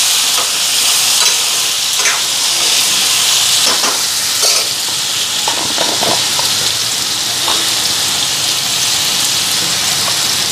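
Potato and pointed gourd fry in a salted pan with a loud, continuous sizzle, broken by bursts of spatula stirring and scraping. No one speaks.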